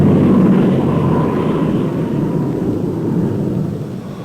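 Lockheed C-130E transport aircraft, a steady broadband engine roar heard from outside, loud and continuous with a slight fade toward the end and no voices.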